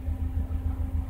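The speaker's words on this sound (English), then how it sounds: "I don't know if you can pick up the misfire." A Chevrolet Aveo engine idles with a misfire, a low, close and steady rumble with a slightly uneven pulsing beat, with no talk over it.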